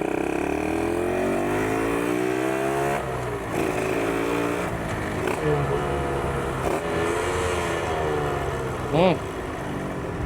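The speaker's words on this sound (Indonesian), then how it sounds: "Suara 2 taknya emang nyandu ya." Up close, a Suzuki Satria two-stroke motorcycle engine is revved repeatedly. Its buzzy pitch climbs and drops in several swells, and a brief sharp blip comes near the end.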